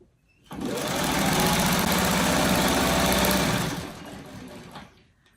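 Domestic sewing machine stitching a fabric piece onto a freeform quilt block, running in one steady, continuous burst of several seconds with a dense rapid hum, then slowing and stopping.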